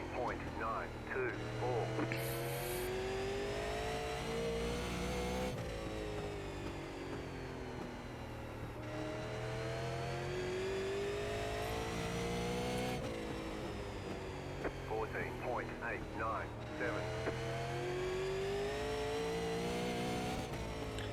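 Super late model race car engine in the iRacing game at Southern National Motorsports Park, a sustained droning roar that rises and falls through repeated shifts and throttle swells, with someone talking over it.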